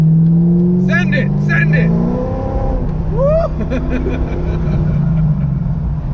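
C5 Corvette coupe with an aftermarket cam revving hard, engine roar rising and falling close by while people shout excitedly over it.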